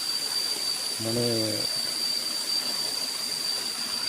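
A waterfall at Ban Huai Huat roars as a steady broadband rush of flowing water, constant and fairly loud, with a brief spoken word near the start.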